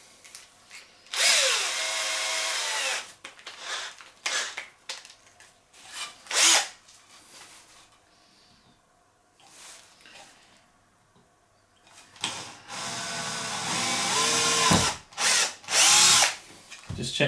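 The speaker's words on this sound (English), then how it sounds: "we'll start with a smaller drill bit just to get a" A power drill with a small bit drills a hole in several bursts, starting and stopping, with a sustained run near the end; close and fairly loud, no talking.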